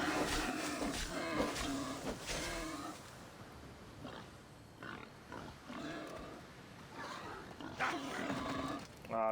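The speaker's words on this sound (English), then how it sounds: "Can't fast travel because there's a pig after me." A pig chases the player in Assassin's Creed Odyssey, grunting and squealing repeatedly in loud, rough bursts over game background noise, with a voice talking faintly in places.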